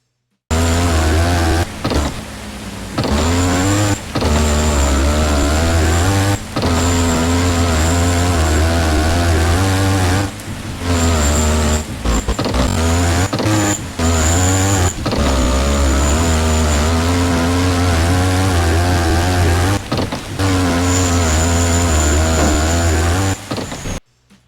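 A dually-fendered truck in the Offroad Outlaws video game drives with its engine droning and revving in long sustained stretches, loud and close, broken by brief dips and cutoffs.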